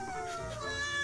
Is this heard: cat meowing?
yes